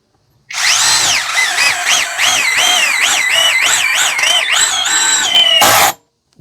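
A KEELAT KCD011 cordless drill runs at its second speed setting and whines loudly up close, its pitch wobbling up and down as the bit works the material, before a brief harsh burst and a sudden stop.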